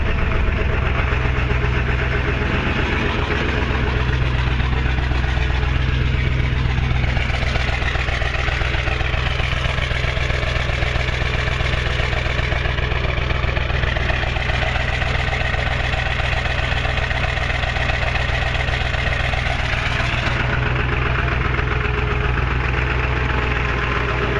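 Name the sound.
Western salt spreader engine running rough and rattling after cold start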